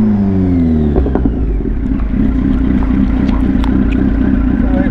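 A motorcycle engine runs steadily and loud close up, its pitch climbing as it accelerates at the start and then holding a strong, even drone while riding; no voices are heard.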